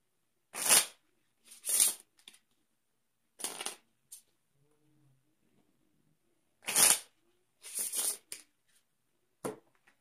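Playing cards are shuffled in a few quick riffling bursts, crisp and close, with short quiet pauses between rounds.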